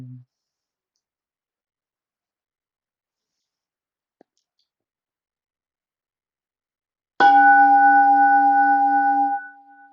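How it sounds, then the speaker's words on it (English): A meditation gong is struck once during a quiet Buddhist session. After long silence, a single bright metallic strike blooms into a sustained, ringing tone that hangs for a couple of seconds before fading away. "allow your mind to focus on the sound of the gong"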